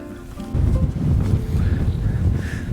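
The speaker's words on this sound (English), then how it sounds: "Getting a bit windy." Strong wind buffets the microphone in low, rumbling gusts near Thornthwaite Crag in the Lake District, loud and close, with a few faint tones drifting through.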